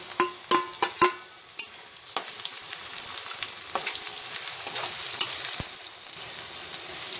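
Onion frying in a pan with finely chopped ginger, garlic and green chillies added, a steady loud sizzle broken by several sharp spoon-stirring knocks early on, with no talk.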